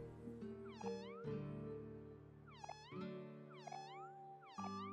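Several cartoon cats in the video game Omori meow in short, bright chirps, four or five calls spaced over a sustained low musical drone, clear and close.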